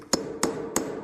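Three sharp, evenly spaced hammer taps set nails into a piece of wooden staircase nosing, close and crisp with no talk.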